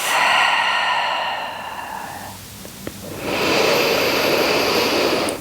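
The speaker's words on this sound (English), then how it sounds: "taking a few rounds of deep breath" Deep yogic breathing in a seated pose, heard close and loud as one long, slow breath, then a quiet pause and another long airy breath.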